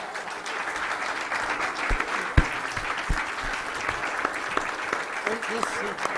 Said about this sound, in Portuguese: Com uma salva de palmas.